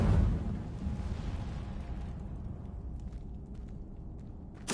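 A fire spell bursts in Hogwarts Legacy on PS5, a loud whooshing blast that trails into a low rumbling roar and fades, with a sharp pop at the very end.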